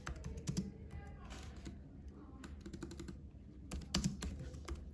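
Fast typing on a computer keyboard, with close clicking keystrokes in quick bursts and a few louder clustered taps, heard alone without talk.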